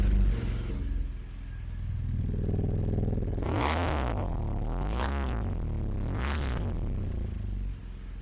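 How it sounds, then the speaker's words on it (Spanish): A BMW R1200GS motorcycle with its original exhaust runs inside a garage. A low, rumbling idle carries a couple of throttle blips rising into louder revs, then settles back, echoing in the enclosed space. "A continuación les voy a estar mostrando cómo se escucha esta BMW con el escape original."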